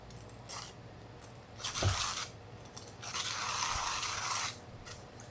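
A hand coffee grinder crunches and scrapes espresso beans in uneven bursts, with two sustained grinding passes and short gritty pauses between them, close and fairly quiet.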